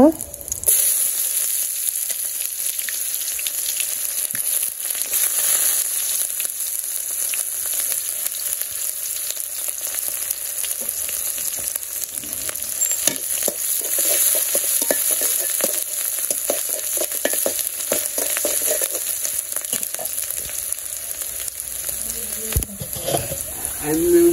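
Onions and bay leaves fry in a pan for a village-style pulao and meat dish, giving a loud, steady sizzle that runs throughout with occasional stirring and slosh sounds close by.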